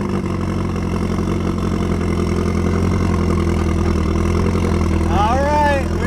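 A car engine with both a turbo and a supercharger idles unevenly in a loud, steady, close rumble, and a voice briefly speaks over it near the end.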